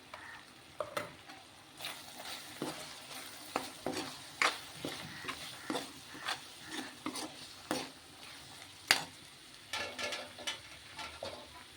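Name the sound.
spices and chili powder frying in a pan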